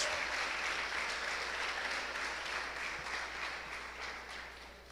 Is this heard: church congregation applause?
yes